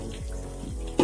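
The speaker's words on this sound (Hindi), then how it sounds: "पानी डाल" Water is poured into a pot while chicken pulao cooks, a brief bubbling gurgle through most of the moment and a louder splash of liquid right at the end.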